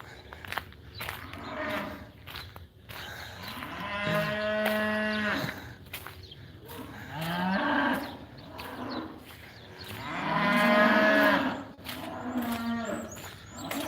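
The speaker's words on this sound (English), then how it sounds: "Those cattle." Cattle moo repeatedly, three long drawn-out calls spaced several seconds apart, with quieter shuffling and rustling between them.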